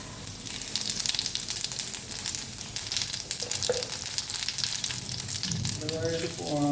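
Cumin seeds crackle and pop in hot oil alongside a couple of cloves, a dense, continuous sizzle with rapid spitting bursts, while a voice speaks briefly near the end.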